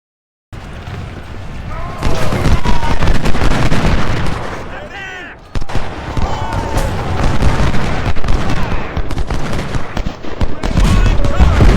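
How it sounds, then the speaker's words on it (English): In Ultimate General: Civil War, during the Battle of Antietam, sniper and musket fire crackles in dense, repeated bursts and volleys, loud and sustained, with someone talking over the battle. "And coming under sniper fire too"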